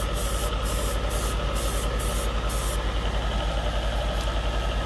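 An airbrush sprays Tamiya lacquer paint in a steady, close, continuous hiss over a low mechanical hum, with no talk.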